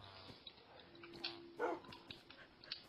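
A dog barks in a video game, a few short yips and barks over faint game ambience and tones, fairly quiet and at middle distance.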